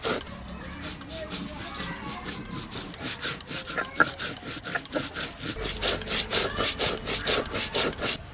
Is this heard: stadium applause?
no